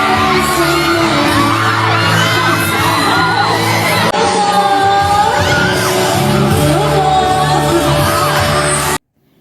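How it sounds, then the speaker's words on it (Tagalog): A packed crowd at a Kapuso mall show in the Visayas screams, whoops and cheers continuously as actress Cassy Legaspi comes down into the audience area, loud and dense, cutting off abruptly at the end. "Hiyawan ang mga tao nang bumaba si Cassie Legaspi sa audience area."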